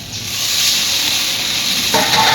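Water poured onto spices frying in a curry pan for a fish and potato curry sets off a loud, steady steaming hiss and sizzle that shifts slightly near the end, with no voices.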